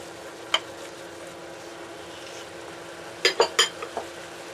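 Ground pork tipped into a pan of softened tomatoes: a single clatter, then a quick burst of several sharp metallic knocks and clinks of utensil against pan over a low, steady background.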